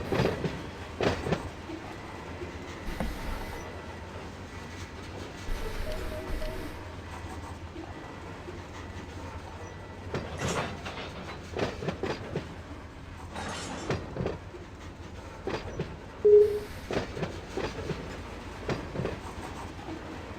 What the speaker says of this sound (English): Oh, Amtrak's leaving.